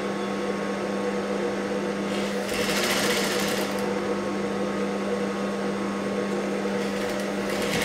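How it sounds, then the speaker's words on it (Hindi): A sewing machine stitches a blouse in a continuous close mechanical whir with a steady motor hum, briefly louder in the middle, no talking. "यहां से हम पूरी यहां पे सिलाई ले लेते हैं"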